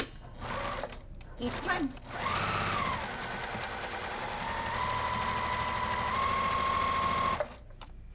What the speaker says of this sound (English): And as I am chain piecing, that is going to save thread